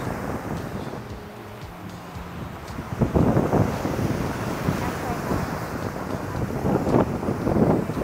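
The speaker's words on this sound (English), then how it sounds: "they would have to get onto these sharp, jagged rocks with the waves pounding them" Wind buffets the microphone as surf rolls and surges against sharp, jagged volcanic rocks at Isla Mujeres, with louder wave washes pounding repeatedly in the second half.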